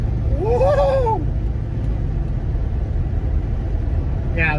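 A 1966 Chevelle Malibu with a roughly 500-horsepower V8 rumbles steadily and loudly up close, its low engine drone continuous throughout, with a brief voice or whoop near the start.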